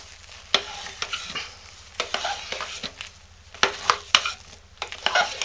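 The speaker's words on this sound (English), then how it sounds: "So I'm going to stir our soap." A spoon works hot process lotion bar soap in a pot, giving repeated scraping and knocking strokes in an uneven rhythm, loud and close, with a faint sizzle-like hiss between them. There is no talking.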